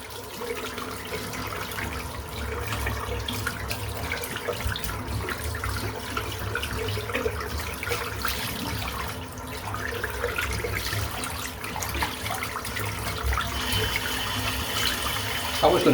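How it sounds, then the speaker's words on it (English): Tap water running steadily into a sink while a shaving brush is rinsed, a continuous close splashing flow lasting throughout. "Right, just rinse the brush out."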